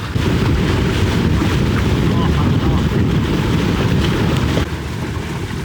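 A sailboat under head sail alone in a light breeze of about 8 knots, heard as a steady rush of wind across the microphone mixed with water washing along the hull, loud and continuous throughout.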